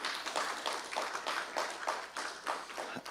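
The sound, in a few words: audience clapping to welcome a speaker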